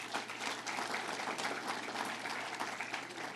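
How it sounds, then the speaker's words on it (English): An audience at a New York governor's campaign event breaks into applause: a steady wash of many hands clapping, fairly faint and distant, sustained for a few seconds with no talking over it. "Let's give them a big round of applause."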